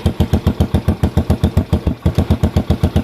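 A Postie bike motorcycle engine with a muffler split along its seam runs steadily, giving a loud, close, evenly pulsing putter with a rapid regular beat and no talk.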